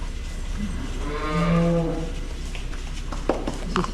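A cow gives a long, low moo up close, with farmyard background noise and a few sharp clicks afterward.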